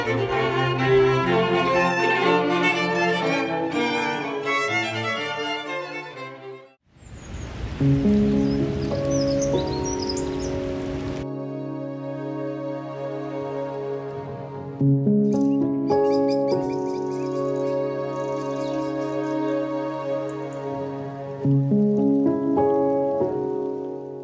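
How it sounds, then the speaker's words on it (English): Gentle music is interrupted by a few seconds of pattering rain, then the melody resumes and carries on. "and then it started to rain."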